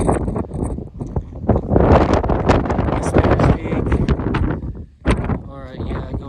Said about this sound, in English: trying to get out of this wind